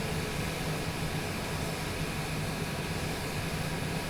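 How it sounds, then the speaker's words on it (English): A Cessna Longitude business jet taxis along a taxiway at Jackson, Mississippi airport, its engines making a steady, loud, unbroken cabin roar with no voices. "We're on Alpha 2, taxiing to Bravo."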